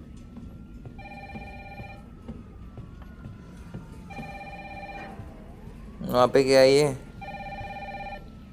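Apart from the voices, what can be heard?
telephone ringing in the video game Resident Evil 3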